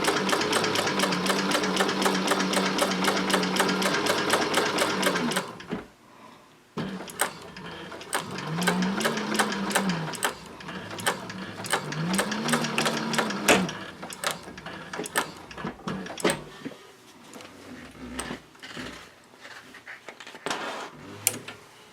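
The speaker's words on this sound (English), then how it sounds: "Back stitch, and then I'll just sew across." Techsew 4800 Pro sewing machine stitching in a steady rapid whir for about five seconds, then several shorter bursts of stitching with pauses, close and clear with no talk.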